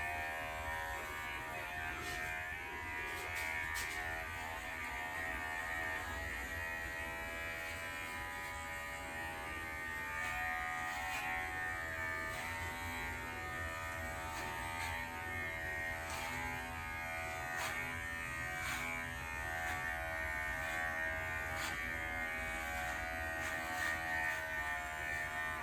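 Steady electric shaver buzz held close for a long stretch as a head is shaved, with small shifts in pitch and occasional brief scraping changes.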